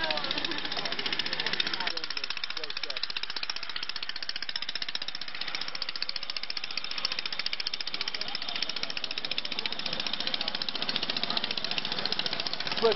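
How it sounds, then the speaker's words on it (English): A boat engine drives a riverboat along the Mekong Delta in Vietnam, a loud, steady mechanical chugging and rattling that runs throughout with a dense, even pulse, with faint voices in the background. "What's driving us right here, this kind of an engine."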